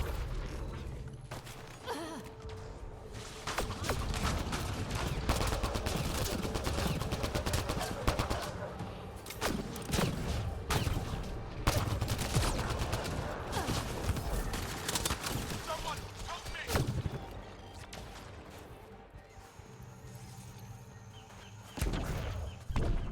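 Rapid bursts of gunfire from the sci-fi shooter Mass Effect Andromeda, fired while airborne, run nearly nonstop at steady loudness with dense crackling shots and occasional louder blasts.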